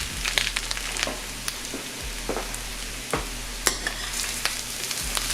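Mushrooms stirred into sweating onions in a hot pan, a constant low sizzle with scattered scraping and clattering taps, close and fairly loud.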